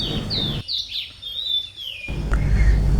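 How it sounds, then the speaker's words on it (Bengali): Birds chirp and tweet in clear, high sliding calls on a rural Bengal winter dawn, several overlapping up close, with a faint background hum dropping out for a moment. "পাখির কিসির মিচির শব্দ প্রকৃতিকে আরও মোহনীয় করে তোলে"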